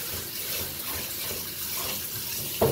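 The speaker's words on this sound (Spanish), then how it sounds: "Vamos a echar un poquito de agua nomás para que no se pegue" Small splash of water poured into a hot pan of shrimp in chipotle diablo sauce, a brief watery hiss and trickle lasting a few seconds near the mic, with a sharper clink toward the end.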